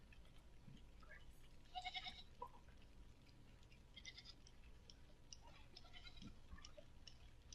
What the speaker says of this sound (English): Who had all of these goats?